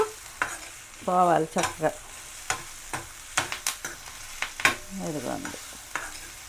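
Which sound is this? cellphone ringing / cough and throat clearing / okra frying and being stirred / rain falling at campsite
okra frying and being stirred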